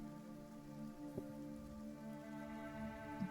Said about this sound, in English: you feel the rain touch your skin for the first time.